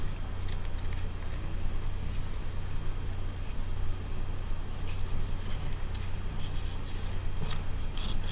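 Scissors snip steadily through designer paper as flower shapes are cut out for a Valentine stamping craft, a close, continuous rasping cut with no pauses.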